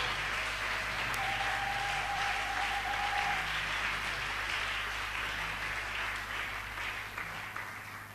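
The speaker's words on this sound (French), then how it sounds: "On peut l'acclamer beaucoup très fort" A church congregation applauds and cheers in worship, steady dense clapping that fills the room and holds loud throughout, easing slightly toward the end.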